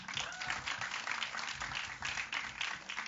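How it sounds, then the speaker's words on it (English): An audience at a film press conference claps steadily for a few seconds, a dense, even patter of hands filling the room with no pause. "I'm so touched that you're clapping with one fractured arm also."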